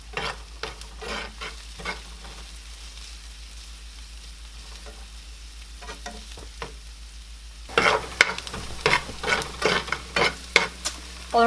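Ingredients stirred in a frying pan for a homemade shepherd's pie, with scattered scraping strokes over a low sizzle that turn into a burst of louder, rapid clatter and stirring in the last few seconds.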